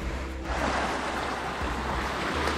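Sea waves washing onto a shore under cloudy skies, a loud continuous roar of surf with broad rushing noise that swells slightly after a brief softer start, heard alone without talk.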